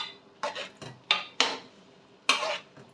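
A spoon scrapes and knocks against a metal pot in several separate strokes, close and fairly crisp, with quiet gaps between them.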